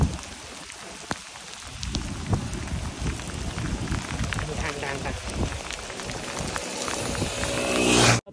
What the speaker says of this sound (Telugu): వాన అయితే మాత్రం చాలా గట్టిగా పడుతుంది